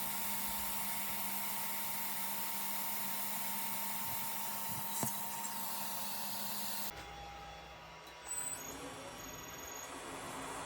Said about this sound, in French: Ponçage et finition.